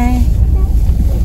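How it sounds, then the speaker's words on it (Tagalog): Strong, cold wind buffeting the microphone in a low, gusty rumble, with a voice talking over it. "Tapos malakas pa yung hangin."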